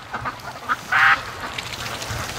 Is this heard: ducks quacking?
yes